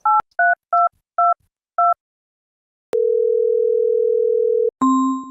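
A telephone keypad dialing a number, five short separate tone beeps, followed by a long steady tone and then a different tone at the end, clear and close with no talking.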